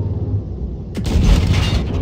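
An AT tank gun firing in the World of Tanks Blitz video game, one sharp, loud blast that breaks from low engine rumble and rolls into a booming, rumbling decay.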